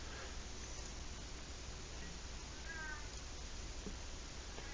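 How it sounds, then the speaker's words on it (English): A pet cat meows a few times, faint and somewhat distant, under a steady hiss of background noise. "My cat is meowing like a mad kitty in the background here"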